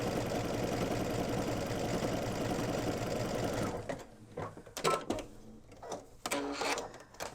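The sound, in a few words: sewing machine sewing a lightning stitch on knit fabric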